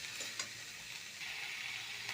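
Vegetables with chopped tomato sizzling and being stirred in a pan for veg noodles, a faint, steady frying hiss with a couple of light utensil scrapes, no talk.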